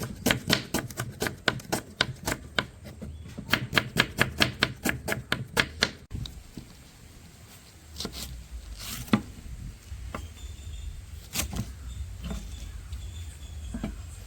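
An onion is chopped with a knife on a board, making fast, even, close knocks in two runs over the first six seconds, then slower scattered cuts and soft handling noises; no one speaks.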